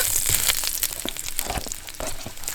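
Ginger hits a little oil in a wok, giving a close, bright sizzle broken by scraping and crunchy stirring clatter in short irregular bursts, with no voices.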